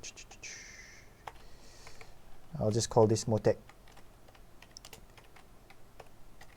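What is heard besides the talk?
typing on a computer keyboard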